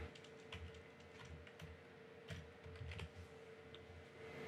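Quiet clicking of keys on a computer keyboard, a quick irregular run of soft taps close by against a low steady hum.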